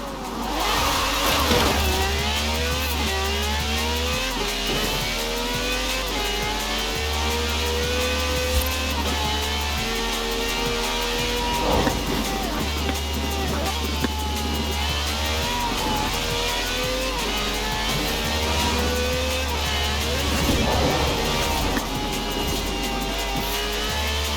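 A drag-spec car on slick tyres in the racing game Forza Horizon 4, its engine revving loud and continuous through repeated rising gear pulls, whining steadily with no voices.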